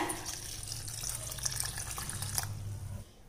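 Water pours in a steady, splashy stream into a pot of tomato rasam for a few seconds, close by, then stops abruptly near the end. Faint drips mix in.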